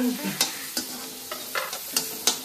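Chopped onion frying in butter in a home kitchen pan, stirred with a spatula in quick scrapes and taps over a soft steady sizzle, close and fairly quiet with no talking.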